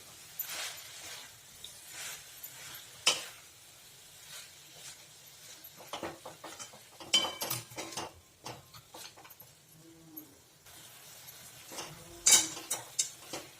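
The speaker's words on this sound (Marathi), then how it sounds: "आता हे सारण आपण छानसं गूळ वितळेपर्यंत परतवायचं आहे" A spatula scrapes and taps in a pan as a sweet filling of jaggery and poppy seeds is sautéed until the jaggery melts, giving quiet, irregular clicks and scrapes with a soft background hiss.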